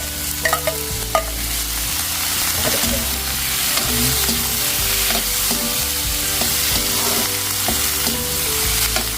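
Seafood and carrots stir-fry in a hot pan, a continuous loud sizzle with rhythmic scraping and tossing strokes from the spatula throughout, and no talking over it.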